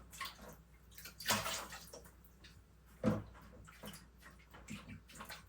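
Items are squeezed out in a tub of water during an aquarium water change, making soft sloshing and trickling. Two louder splashy bursts stand out from the quieter dripping and swishing, all close by with no voices.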